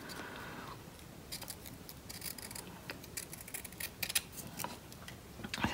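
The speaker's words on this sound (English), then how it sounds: "I'm going to cut two really thin strips." Scissors snip thin paper strips for a paper mouse finger puppet's whiskers, a run of faint, quick close-up cuts at an uneven pace in a quiet room.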